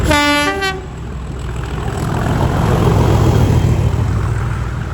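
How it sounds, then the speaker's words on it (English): A Rail Operations Class 37 locomotive hauling ex-Greater Anglia Class 321 units opens with a loud horn blast, then a steady heavy rumble of the passing train that builds and holds close by. "freight of the day is a rail operations 37 hauling some ex-Great Anglia 321s"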